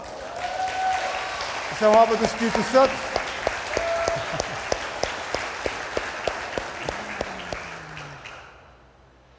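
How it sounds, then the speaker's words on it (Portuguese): A church congregation claps rhythmically and steadily in praise, a loud crowd of palms with scattered cheers, while a preacher speaks over it before the applause fades. "Uma salva de palmas para o Senhor Jesus."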